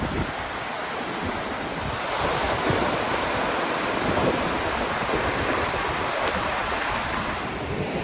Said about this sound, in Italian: E io sono venuta qua, proprio vicino a questa cascata.